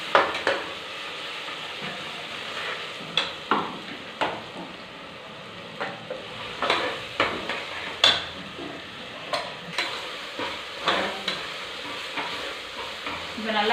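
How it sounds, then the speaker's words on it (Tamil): Garlic and ginger-garlic paste frying in oil for mutton fry, a steady sizzle broken by repeated scraping stirs and clinks of a spoon against the pan, close and alone without talk. "இப்போ நல்லா பூண்டு எண்ணெயில் வதங்கியாச்சு, இஞ்சி பூண்டு பேஸ்ட் எல்லாமே."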